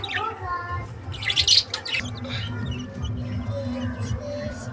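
Pet budgies in a cage chirp and twitter after being given seed, a close flurry of quick bright calls with a louder burst midway, alongside a pigeon kept nearby.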